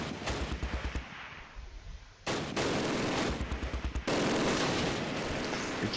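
MG42 machine gun fire in the Close Combat: Last Stand Arnhem war game, loud rapid bursts of automatic shots in several sustained strings with brief pauses between them.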